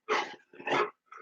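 A sick pet dog barks and growls in three close, loud bursts, the last one shorter and softer, with no other sound between them.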